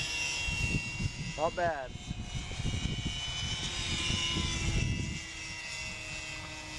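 GWS Tiger Moth model airplane flying in about a 10 knot crosswind on a windy day, its steady motor drone persisting throughout under wind noise, with a brief spoken remark near the start.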